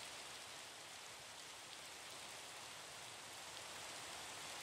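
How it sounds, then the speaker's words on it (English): Steady, soft video game rain hiss, an even wash of falling drops with no variation or voices. "Why is it raining?"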